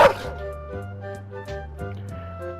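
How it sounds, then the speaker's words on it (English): A dog in a weird indie video game barks loudly and close, one sharp bark at the start, over a steady rhythmic game music bed that continues throughout. "a dog just barked real loud in my ear"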